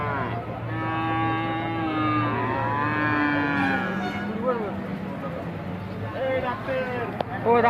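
Cows low repeatedly at a busy Maharashtra cattle market, with long drawn moos from several animals, some near and some farther off, over the murmur of people talking and market bustle.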